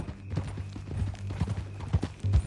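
Horse hooves clip-clop in a quick, uneven rhythm in Red Dead Redemption 2, close and clear over a low background hum.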